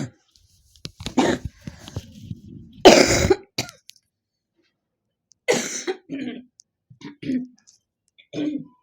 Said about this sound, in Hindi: खांसी से मैं परेशान हूँ